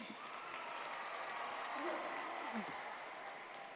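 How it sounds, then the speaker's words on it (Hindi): Audience at a solar park foundation ceremony applauding in a steady, moderately loud wash of clapping, with a voice speaking over it. "हम सबके मामा शिवराज सिंह के चौहान साहब के लिए जोरदार ताली"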